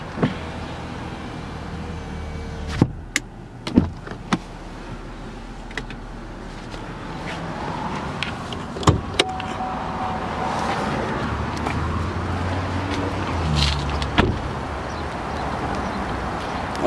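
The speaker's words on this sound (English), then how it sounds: "All four windows are automatic down." Power windows on a 2015 Chevrolet Impala LT lower with a soft motor whir, set among sharp mechanical clicks and thumps inside the car; the sounds come close and at moderate volume.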